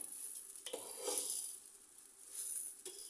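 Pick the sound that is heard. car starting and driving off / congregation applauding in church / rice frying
rice frying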